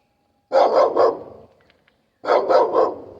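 A dog on a small farm in the woods barks twice in quick triple bursts, loud and close, with a short pause between the two volleys.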